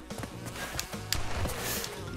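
Wasps buzz in Crash Bandicoot N. Sane Trilogy (Crash Bandicoot 2), a faint, steady insect drone with a few short thumps from the game.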